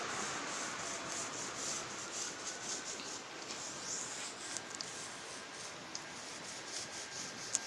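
A paint roller worked over a rock in rock-painting craft, producing a soft, continuous close rubbing hiss with a few tiny clicks, steady throughout and without talk.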